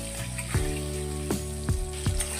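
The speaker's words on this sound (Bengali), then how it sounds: "আলুগুলো লাল লাল করে ভেজে তুলে নিতে হবে" Potato pieces fry in oil with a gentle, steady sizzle that stays quiet and even, set against a sustained tonal background with occasional soft knocks.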